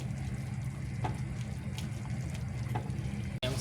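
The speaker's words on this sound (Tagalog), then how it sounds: "Kusa nang madidrain yung tubig." Steady running water drains from cooking noodles, pouring and splashing continuously, with a few faint clinks and drips; no voices are present.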